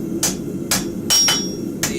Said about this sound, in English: I'm letting the anvil do more of the work than the hammer itself